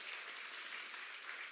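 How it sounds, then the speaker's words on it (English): Steady, dense applause from a large audience at the opening ceremony of the 31st Afreximbank Annual Meetings, faint and distant-sounding and continuing evenly throughout. "round of applause, yes."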